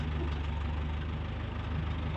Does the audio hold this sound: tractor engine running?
yes